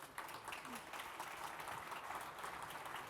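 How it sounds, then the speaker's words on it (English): Steady applause from an audience at the close of a talk on Facebook's football strategy, a dense continuous patter of many hands sustained at an even level from start to finish. "Please give an applause to Glenn."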